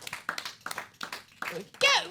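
A small basement audience claps in an uneven rhythm, sharp separate claps repeating several times a second, with a voice breaking in near the end.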